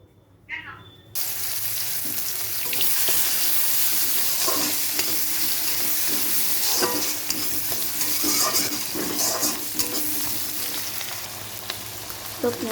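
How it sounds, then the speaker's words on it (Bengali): Pieces of rohu fish fry in hot oil in a pan, producing a loud, steady sizzle that starts abruptly after a brief quiet moment and continues with light crackling and occasional utensil scrapes. "এই যে মাছ দিয়েছি, ভাজা বসিয়ে দিয়েছি।"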